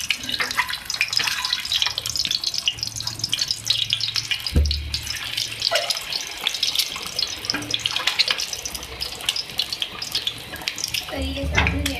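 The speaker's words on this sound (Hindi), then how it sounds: "अब मैं इसमें जो मैंने अपनी ग्रेवी बनाई थी मैं इसमें ऐड करूँगी" Homemade gravy is poured into a pan of fried eggs, giving a steady wet splashing and sizzling hiss with a few clunks against the pan, continuous and close.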